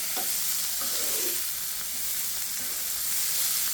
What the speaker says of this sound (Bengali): যেহেতু এখানে আমি রসুন দিয়েছি পেঁয়াজ দিয়েছি, একটু লাল লাল করে ভেজে নিচ্ছি